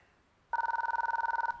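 A telephone bell rings suddenly after a short quiet stretch, a fast, loud trilling burst of rapid repeated strikes that stops abruptly, with no voices.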